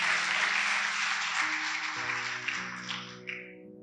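A church youth service congregation clapping, a broad dense burst of applause over sustained musical tones that fades out toward the end.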